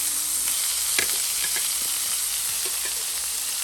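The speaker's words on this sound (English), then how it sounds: "We got these big juicy burgers going on, smelling good." Big juicy butter burgers fry in a pan with a steady, loud sizzle up close, broken by a few small pops and scrapes, and nobody talks over it.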